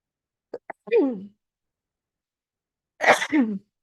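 A short, sharp sneeze bursts out after a moment of silence, preceded by a couple of small breathy clicks and a quick voiced sound.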